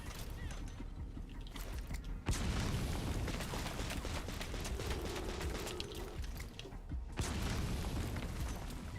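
Grenade explosions in the Metal Gear Solid V video game: dense, sustained booming and blasts, with a sharp burst at about two seconds and another near seven seconds, loud and continuous throughout.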